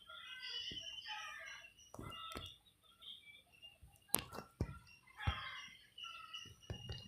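Chickens in a base-building video game cluck and squawk in irregular bursts, with clicks and other game noises mixed in at moderate volume.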